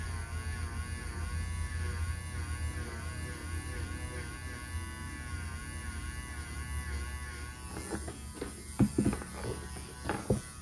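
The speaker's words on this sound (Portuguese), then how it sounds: "Agora eu vou fazer a limpeza aqui, tirando essa pele. Tô usando a minha broca PM718." A PM718 electric nail drill whirs steadily at close range while removing cuticle skin, a thin constant buzzing hum, followed near the end by a few short scraping and tapping handling sounds.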